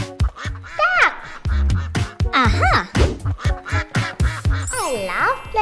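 Rubber duck toy quacking repeatedly as children play with a 3D pin art toy, loud squeaky honks in quick succession close by, mixed with small clicks and clatter.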